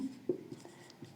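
Marker or chalk strokes on a classroom board during a lesson on the mouth and teeth, a few short scratchy taps and squeaks, close and fairly quiet.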